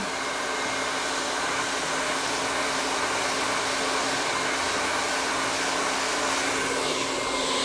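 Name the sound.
hair dryer blow drying curly hair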